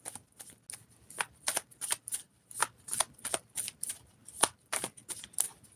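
Tarot cards are shuffled by hand at close range, giving a quick run of crisp riffling bursts separated by short pauses.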